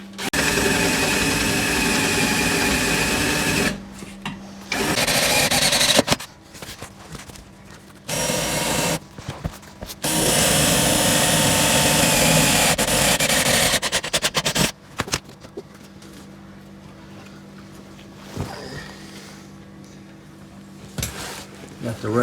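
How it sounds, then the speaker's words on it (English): A power drill bores into a Jeep frame while a rock slider is fitted, loud bursts of drilling broken by short pauses in the first fifteen seconds, then quieter workshop handling and faint talk. "Now we got to drill out the frame."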